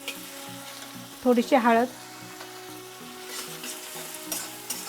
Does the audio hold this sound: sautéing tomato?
yes